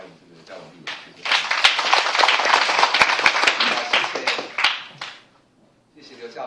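An audience at a talk breaks into applause to welcome legislator Lin Chia-lung: a dense burst of many hands clapping swells for several seconds, then fades out, with a voice faintly audible at the edges.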